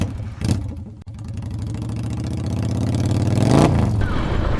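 Car engine driving and accelerating, a steady rising mid-pitched hum that swells toward the end, close and continuous with no talk.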